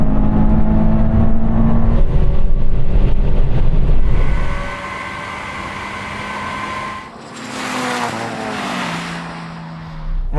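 Mazda MX-5 NC roadster, Toyota GT86 and Honda S2000 in a drag race, loud engines roaring and revving close by with tire noise, then a shifting whine as a car accelerates past toward the end.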